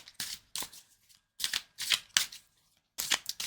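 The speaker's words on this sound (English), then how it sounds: "Let's use the Osho deck now and pull a few cards for" An Osho tarot deck is riffled and shuffled by hand in short crisp bursts, about six quick flurries of card snaps with brief pauses between, close and alone.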